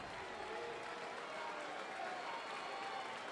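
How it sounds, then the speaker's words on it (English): A baseball crowd at a tied game in the ninth inning claps and cheers in a steady, even wash of distant applause. "then they'll start the clapping and the cheering once again."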